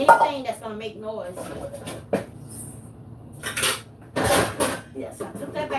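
Pots and pans clank and knock as they are shifted around inside a kitchen cupboard, in several sharp metallic hits spread through the stretch, under continuous talking.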